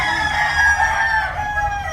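An imported Spangle gamefowl rooster crows one long, loud cock-a-doodle-doo close by, held steady for about two seconds in a small farm setting.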